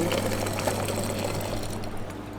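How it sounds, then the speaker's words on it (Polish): Warm water poured from a kettle over a paper filter seated in a coffee dripper on a brewing vessel, a steady close trickle and splash running without pause under a constant low hum. "filterek w driperze, driper na naczyniu, w którym będziemy parzyć i przelewamy to wszystko ciepłą wodą"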